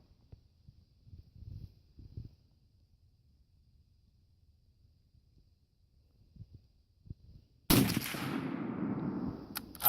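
A Glenfield Model 30 scoped rifle fires a single 170-grain Lee flat-nose cast bullet, one sharp loud shot near the end with a long echoing tail after quiet handling noises.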